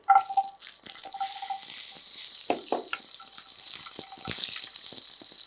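Cumin and small onions fry in groundnut oil, a bright close sizzle with crackling spatters and occasional scraping stirs throughout.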